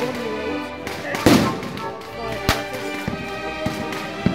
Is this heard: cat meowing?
no